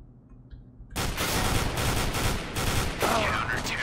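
Counter-Strike: Global Offensive gunfire breaks out suddenly after a short quiet start. Loud, dense bursts of rapid automatic shots continue without pause.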